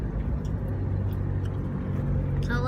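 A car is driving, heard from inside the cabin: a steady low engine and road rumble that stays even throughout, with a brief higher sound near the end.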